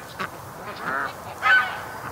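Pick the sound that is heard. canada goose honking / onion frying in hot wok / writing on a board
canada goose honking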